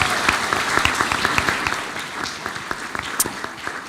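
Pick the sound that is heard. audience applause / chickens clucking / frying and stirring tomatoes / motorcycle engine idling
audience applause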